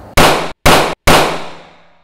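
Three loud, close gunshots in quick succession, each a sharp blast with a long ringing tail, the last decaying slowly into quiet.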